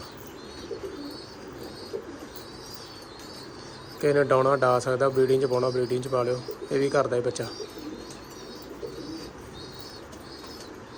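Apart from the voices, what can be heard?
pigeons cooing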